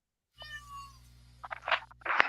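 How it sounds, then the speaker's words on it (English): A domestic cat gives a drawn-out meow, followed by a few quieter, scratchy sounds over a low steady hum indoors. "I heard a cat."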